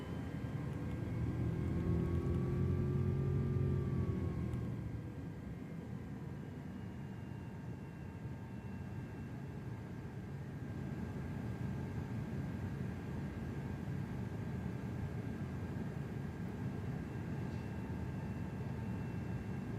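An airliner engine in Microsoft Flight Simulator 2024 drones steadily during descent toward Colorado Springs, with a brief tonal whine early on before settling into an even, broadband rumble.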